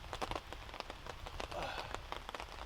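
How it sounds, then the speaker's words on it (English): Rain falls at a wild camp, heard as faint, irregular pattering and tapping drops close by, with no break across the few seconds. "It doesn't look like this rain's going to stop anytime soon."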